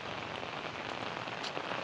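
Steady monsoon rain pours down on a waterlogged street near a temple, a dense, even hiss of drops striking water and hard surfaces with no pauses.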